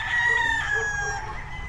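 A backyard rooster crows loudly and close by, one long drawn-out call over a low background rumble.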